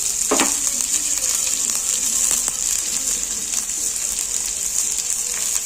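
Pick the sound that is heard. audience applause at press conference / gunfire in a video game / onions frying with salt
onions frying with salt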